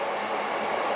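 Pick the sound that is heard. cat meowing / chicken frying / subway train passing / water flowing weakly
subway train passing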